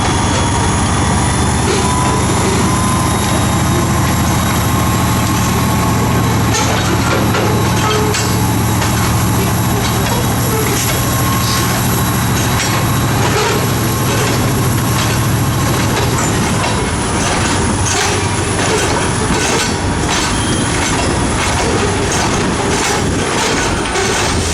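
Florida East Coast freight train slowly shoving a cut of railcars back toward a yard facility, with steady rumbling wheels, clanking couplers and intermittent wheel squeal, loud and close throughout.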